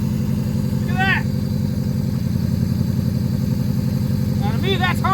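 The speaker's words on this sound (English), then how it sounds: "It's idling." Honda CRX ZC engine idling after a cold start following four years of sitting, a loud, steady, even low rumble heard close, with brief voices over it.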